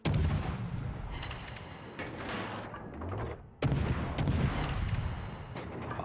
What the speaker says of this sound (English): So now I'm going to get some shots on Hindenburg.